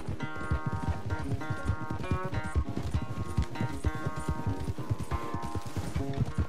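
In the video game Red Dead Redemption 2, a horse gallops at a race pace, its hooves drumming in a steady, loud clip-clop rhythm that runs the whole time, close by, with almost no voice over it.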